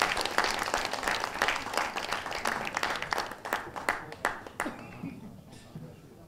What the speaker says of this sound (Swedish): Gösta, en applåd för Gösta.